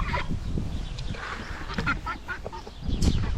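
A farm duck gives honking, quacking calls over rustling outdoor background noise, with a louder burst near the end.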